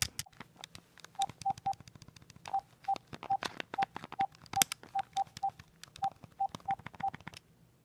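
A telephone keypad dials a number, producing a rapid string of short electronic tone beeps mixed with crisp button clicks. They fall in uneven bursts close to the microphone.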